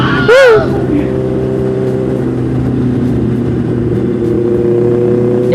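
Honda CBR650 motorcycle engine revving on a group ride, a sharp rising rev burst near the start then a steady loud engine drone, with a brief voice under it.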